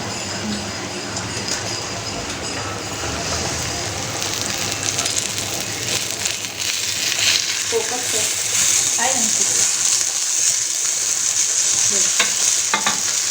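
Hot oil crackles and spatters steadily while bhakri cooks on a home stove, a dense continuous sizzle that grows louder and brighter in the second half, with occasional faint clinks.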